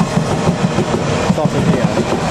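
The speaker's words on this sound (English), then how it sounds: "And at the same time is a Hammersmith and City Line train to Hammersmith." A London Underground Hammersmith and City Line train at Barking station, heard as a steady rumble with faint rhythmic clatter over a short stretch, fairly close and continuous.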